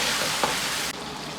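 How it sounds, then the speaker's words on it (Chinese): Diced tomatoes are stir-fried in hot rapeseed oil and lard with ginger and scallion, giving a close, even sizzle with a brief scrape before the sound drops a little and continues. "炒香后，先下入切好的西红柿丁煸炒出颜色"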